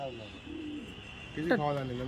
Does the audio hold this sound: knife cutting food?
no